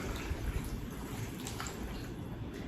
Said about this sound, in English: what I'm gonna do is pour this water in here, and I have about 4 cups of water